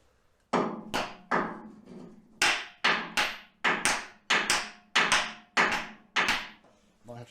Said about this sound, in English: Might have to use the other hammer for this one.